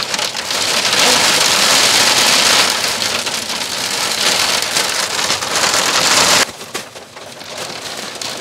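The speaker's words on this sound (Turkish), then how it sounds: "Nasıl bir yağmur ya?" Heavy rain pours steadily onto a caravan roof and awning at a campsite during a thunderstorm, a loud dense hiss that eases briefly toward the end.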